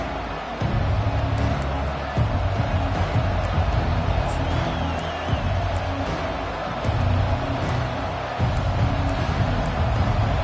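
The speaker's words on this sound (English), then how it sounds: "This crowd bringing an ear-splitting welcome to their visitors" A Clemson football stadium crowd roars in a continuous, distant wash of cheering under a commentator's voice, swelling slightly at moments.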